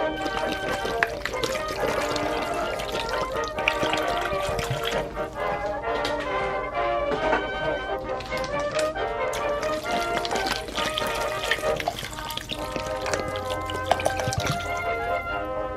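Water is poured into a pressure cooker to make broth for native chicken tinola, a continuous, splashy pour that keeps going at a steady level.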